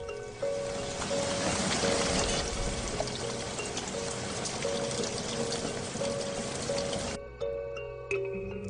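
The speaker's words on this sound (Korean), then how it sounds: "빗줄기 소리 요란하게 짝짝거립니다." Heavy rain pours steadily as a dense, continuous hiss with a faint repeating tone behind it, then cuts off abruptly near the end into quieter background sound.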